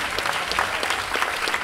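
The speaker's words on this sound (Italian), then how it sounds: "In console Fabio Mirta da Cosenza con furore, un applauso anche per lui" A live festival crowd claps for the DJ at the console. The applause is brief and bright with uneven, overlapping claps at moderate loudness.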